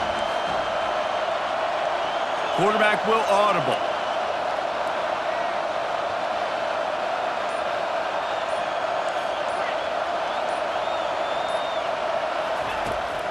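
A home crowd at a college football game in EA College Football 25 roars steadily throughout, a broad sustained wash of cheering with a brief announcer voice early on.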